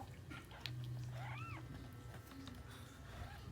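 A faint cat meow rising and falling, heard once against a low steady background hum.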